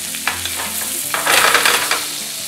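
Salmon fillet frying skin side down in hot vegetable oil with a tablespoon of butter, a steady close crackling sizzle that swells louder in the middle with scattered pops.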